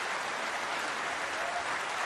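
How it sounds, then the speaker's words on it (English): Steady, dense applause from a large snooker crowd at the World Championship, even and sustained throughout with no pauses. "considerable applause will tell you that Robertson not only has made that break"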